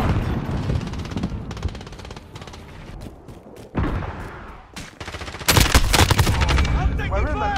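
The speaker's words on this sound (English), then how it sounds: "I'm taking fire." Rapid automatic gunfire rattles through a Call of Duty Modern Warfare team deathmatch, with dense bursts of shots throughout and a louder, heavier volley toward the end.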